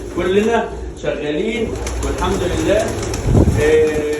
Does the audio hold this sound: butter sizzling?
no